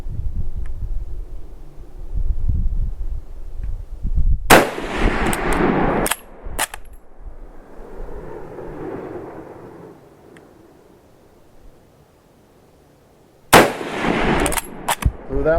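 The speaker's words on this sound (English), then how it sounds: "You're trying to get the rounds off in relatively quick succession, just in case the first one doesn't quite do the job." Enfield hunting rifle fired with CamPro bullets in a simulated moose-hunting drill: a loud close shot, several quick follow-ups, a long rumbling echo dying away, then another sharp report near the end.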